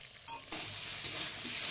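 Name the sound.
frying drumsticks (sajne data) in fish curry masala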